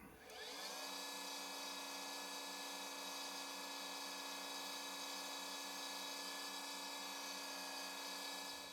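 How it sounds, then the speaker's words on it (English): Steady high-pitched whine of a spinning machine, likely a lathe, while a metal model engine fuel tank is sanded with sandpaper. It holds constant for about eight seconds, close and unbroken. "Now I'm going to clean that up with sandpaper"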